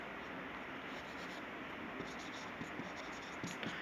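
Chalk or pen scratching continuously across a board in a maths classroom, a dry steady scraping with a few sharper taps near the end, no voices.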